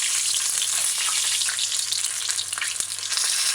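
Chicken balls frying in hot oil give a steady, dense sizzle and crackle, close and continuous with no voices.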